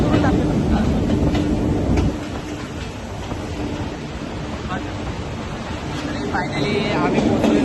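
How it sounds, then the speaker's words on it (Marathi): Steady rumble and rushing noise from inside a moving train on a trip near Khopoli, loud and continuous throughout, dipping slightly midway, with no clear talk. "आम्ही पोहोचलेलो आहोत, ट्रेनमध्ये बसलेलो आहोत."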